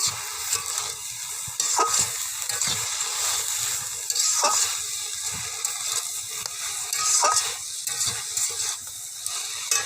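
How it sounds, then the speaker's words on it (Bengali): Pumpkin-stem curry with fish, potato and aubergine stirred in a pan after the lid comes off, giving steady close scraping and soft sizzling with intermittent spoon strokes throughout, no voices. "ঢাকনাটা খুলছি, একটু নাড়তে হবে"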